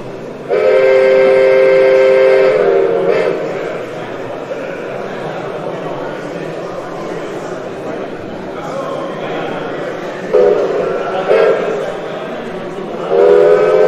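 A five-tone whistle on a gauge 1 model Class 10 steam locomotive sounds one long chord-like blast, then shorter toots, over the steady whir and clatter of the running model train.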